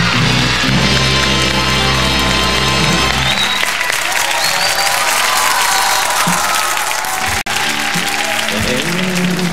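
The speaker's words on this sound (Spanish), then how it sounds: "Un aplauso para él." A crowd applauds steadily and loudly over music for a singer, with cheering mixed in and a brief break near the end.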